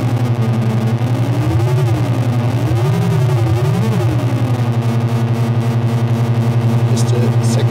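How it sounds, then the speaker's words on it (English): Drone synthesizer oscillator from a mutated, coupled Creep Cluster setup, a loud sustained buzzing tone with slowly wavering, modulated pitch that sweeps up and down over a steady low hum, running continuously throughout. "Here's one oscillator, it's this one."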